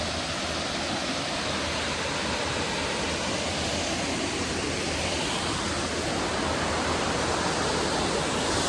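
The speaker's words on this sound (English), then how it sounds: "checking out the amazing waterfall here" Waterfall at Longwood Gardens in Pennsylvania, a steady, dense rush of falling water that stays even and fairly close for the whole stretch, with no voices.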